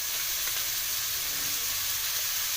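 Spices including garam masala, mutton masala and chicken masala frying in a pan for a vegetable kurma, giving a steady, soft hiss and sizzle with faint stirring scrapes and no voices.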